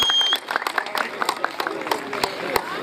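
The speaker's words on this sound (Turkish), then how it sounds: "Ve mevcut ağamız Eyüp Al Kaptan'ı bir alkışlar mısınız?" Audience applause at a Turkish contest event, a steady spread of clapping from a crowd filling the moment, with scattered louder claps and some voices mixed in.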